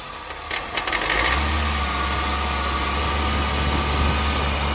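Diesel car engine during an EGR, intake valve and turbo cleaning, revving and then held at steady high throttle, a loud continuous close drone with deep low rumble after a brief rising start, no talking.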